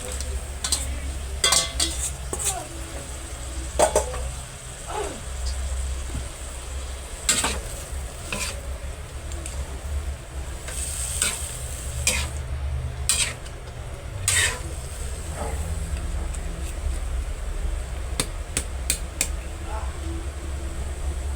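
Second-pressed coconut milk simmers in a pot with winged beans being added and stirred, giving soft bubbling and occasional sharp utensil clinks against the pan under a low steady background hum.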